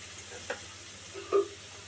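Potatoes, onion and garlic frying in a pan for a fish curry, a low continuous sizzle broken by a couple of short stirring scrapes, close and fairly quiet.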